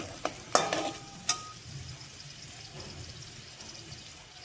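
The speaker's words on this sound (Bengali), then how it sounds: "আলু, মটর, গাজরটা ভালো করে ভেজে নিব।" Potatoes, peas and carrots frying in a pan, giving a soft steady sizzle with a few sharp stirring clatters near the start, then a quieter, even hiss.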